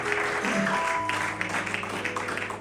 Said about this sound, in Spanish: denle un aplauso grande y fuerte a nuestro Señor Jesucristo